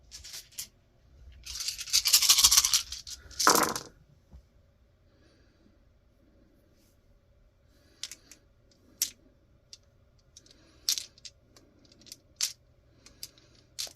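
Roughly two dozen dice for a tabletop wargame tumble in a loud clattering roll lasting a couple of seconds, followed by scattered sharp clicks and taps as dice are sorted and moved about on the table.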